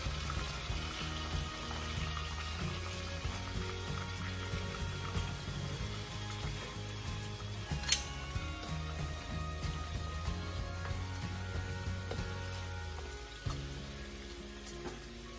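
Pork ribs brown in a pan over low heat on a stovetop, giving off a soft, steady crackling sizzle that stays faint and even, with one brief sharp tick partway through.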